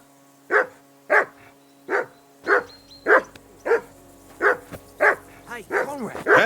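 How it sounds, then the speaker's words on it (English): A dog in the video game Kingdom Come Deliverance 2 barks repeatedly at a steady rhythm, about ten loud, close barks, with a voice talking over the last ones. "Hey, call off that dog and then we can talk."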